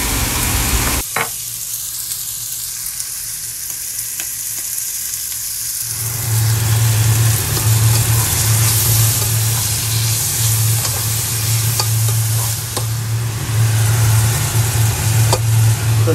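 Bean sprouts fry in olive oil in a pan with a loud, continuous sizzle. A low steady hum joins partway through and runs beneath the crackling, heard close throughout with no voices.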